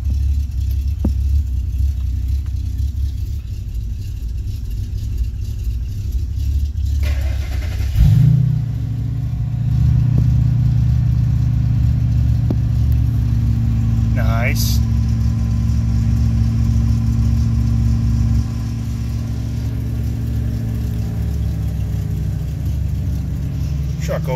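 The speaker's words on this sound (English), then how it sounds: "Truck always fires right up." A truck engine cranks and catches about eight seconds in, then settles into a steady, close mid-pitched idle and run that continues to the end, with some talk over the top.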